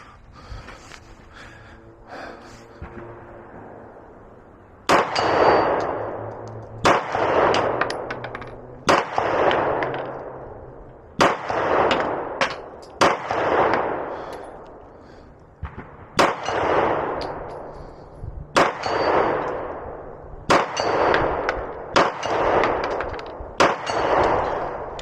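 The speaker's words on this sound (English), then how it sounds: "So let's go ahead and shoot the Glock first." A Glock 19 Gen 5 pistol fires shots at a target 50 yards away, each loud crack followed by a ringing decay, spaced about two seconds apart with a few quick pairs, after a quieter lead-in.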